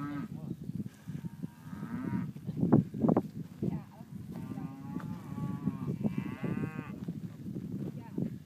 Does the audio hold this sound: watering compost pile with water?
no